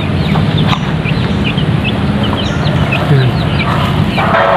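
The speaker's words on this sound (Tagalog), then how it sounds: "Yung manok" Farm chickens cluck and chatter in short repeated calls, several birds nearby, over a steady busy background with no talking.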